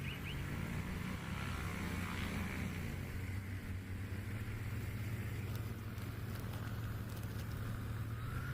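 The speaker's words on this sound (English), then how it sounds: "Just Aircraft Super Stol. And it's time for them to all taxi back and do it again." Just Aircraft Super Stol light planes taxi at a small airstrip, producing a steady, moderately distant propeller-engine drone that holds throughout with a slight pitch shift and no talking.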